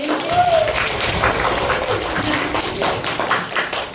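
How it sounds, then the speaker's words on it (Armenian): Children applaud in a classroom during a lesson on the senses, a steady wash of scattered clapping lasting several seconds with voices mixed in. "Ծափարենք"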